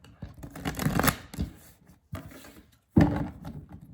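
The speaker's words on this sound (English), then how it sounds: "one more shuffle and then we can begin" A sticky deck of playing cards being shuffled up close, with riffling bursts and pauses between several short passes.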